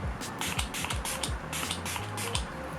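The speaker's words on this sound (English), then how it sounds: "I'm gonna set my makeup using the Catrice Prime and Fine Multi-Talent Fixing Spray." Rapid bursts of hissing makeup setting spray, several quick pumps in a row, close up over a faint low background hum.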